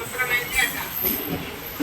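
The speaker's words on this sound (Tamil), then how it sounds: "திருவள்ளூர்லேருந்து ட்ரெயின் கிளம்பிச்சு." A MEMU train rumbles and clatters as it pulls away from Tiruvallur station, with a steady low roar and faint metallic squeals.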